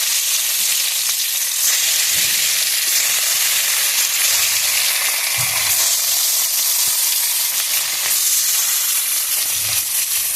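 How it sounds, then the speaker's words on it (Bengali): Fish fries in a hot pan, a loud, dense, continuous sizzle that stays steady throughout, with faint low knocks now and then underneath. "চলো মাছটা ভেজে নিই।"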